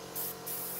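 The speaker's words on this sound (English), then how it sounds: "now one more spray over the floor so that we don't have the white plastic" Paint is sprayed onto the floor piece of an Eduard 1/48 Tempest Mk.V plastic model kit in two short, soft hissing bursts close by, quiet overall.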